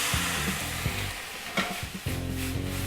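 Green beans land in melted butter in a hot pan and sizzle, a dense hiss broken by stirring clatter and scraping, close and fairly loud with no voices.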